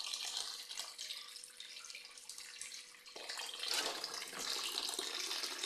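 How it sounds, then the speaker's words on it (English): Grapes rinsed under a running kitchen tap: a steady hiss of flowing water splashing into the sink, shifting to a fuller, brighter gush partway through, with no voices. "So we're going to give it one last rinse."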